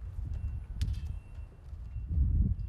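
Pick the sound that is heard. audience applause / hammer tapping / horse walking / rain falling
horse walking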